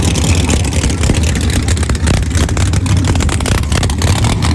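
A drag racing car with a nitrous-fed motor roars loudly and continuously at a radial race meet, its deep engine rumble and revving filling the whole stretch with no pause.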